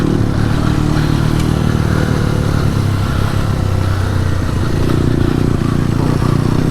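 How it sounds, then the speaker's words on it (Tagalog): Motorcycle ridden down a muddy trail in Kayapa, Nueva Vizcaya, its engine a loud, steady drone throughout with rattling clatter from the rough ground and no voices. "Pandahin ng motor natin."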